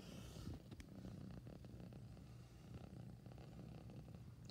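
A domestic cat purring up close, a steady low rumble that runs continuously for several seconds with no voices over it.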